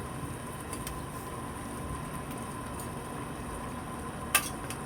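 Fried boneless milkfish simmering in coconut milk with vegetables in a home kitchen pot, a steady soft bubbling hiss throughout with one brief sharp clink near the end.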